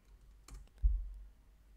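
A new campaign name is typed on a computer keyboard in a few quiet, close keystroke clicks, with one firmer tap near the end, set against a near-silent room.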